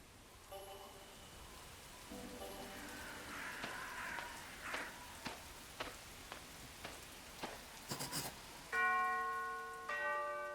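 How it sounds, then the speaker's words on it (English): In the Arkham Horror video game, a mansion doorbell chimes with a few bright, ringing tones over a soft bed of steady rain. Scattered knocks and taps also sound now and then. "I'd better ring the bell."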